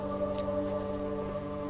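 Rain in the video game Halo Reach, a steady patter of raindrops on surfaces under a sustained tonal hum, continuous and moderately loud, with no talk.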